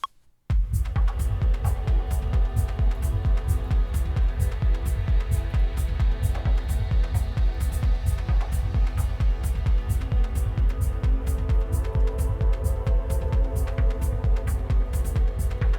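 A high-pitched ambient synth pad is brought in through a filter in repeated, evenly spaced bursts over a steady throbbing pulse, the bright tone faint and mostly buried while the filter stays low.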